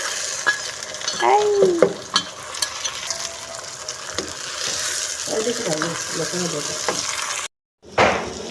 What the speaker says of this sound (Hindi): अब इसमें लहसुन अदरक का पेस्ट और टमाटर ऐड कर देंगे, साथ में सब्ज़ मिर्चें, और साथ में इसको फ्राई कर देंगे।